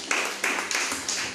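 A church congregation claps their hands in praise of Jesus, four crisp, evenly spaced claps in a steady rhythm, close and clear with no talk over them.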